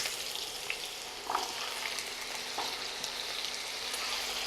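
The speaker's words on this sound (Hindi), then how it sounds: "अब इनमें आप आलू डाल देंगे।" Potatoes frying in hot ghee for a Marwari curd potato curry, a steady close sizzle with a brief crackling burst as they settle in the pan, continuous hiss throughout with no voices.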